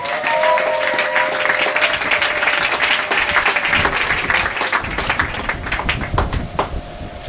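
Church congregation applauding together, a loud, dense, sustained burst of many hands clapping that carries on steadily and fades slightly toward the end, with faint voices mixed in.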